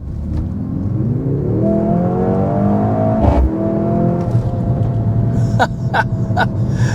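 The engine of a 2025 Mercedes-AMG GLC 63 S E Performance plug-in hybrid SUV revs up and accelerates steadily, its rising harmonic tone loud and close, with a few sharp pops near the end.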